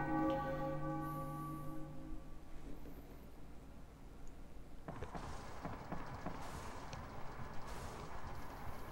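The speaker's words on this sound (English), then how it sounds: "The bell strikes three under the axe" A large bell in the Final Fantasy IX video game strikes with a loud, sustained ringing tone that slowly decays over several seconds, followed by clattering, busy game sound effects.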